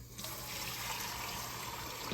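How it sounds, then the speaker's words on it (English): Water pours steadily into a baking pan to make a water bath for crème caramel, a continuous soft rushing splash lasting a couple of seconds with nobody talking. "we're gonna fill the pan up, halfway up, with a water bath"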